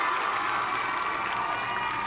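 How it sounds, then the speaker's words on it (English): Steady, dense applause from a crowd fills the whole stretch at an even volume, with no break. "did you hear applause?"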